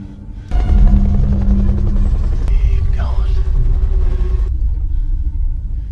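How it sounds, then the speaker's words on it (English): A loud, steady rescue helicopter rotor roar rumbles in abruptly as it approaches and stays heavy and continuous, with a low thrumming drone underneath. "he hears the approaching sound of a rescue helicopter"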